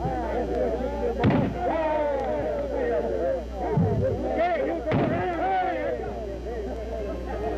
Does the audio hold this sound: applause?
no